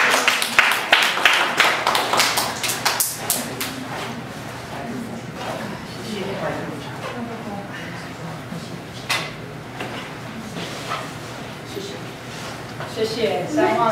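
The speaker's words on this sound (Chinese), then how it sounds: "我们一起拍手欢迎 Lorri 到我们当中。" Audience applause at a church gathering welcoming a speaker, a burst of clapping in the opening seconds that fades as a voice begins talking over the room.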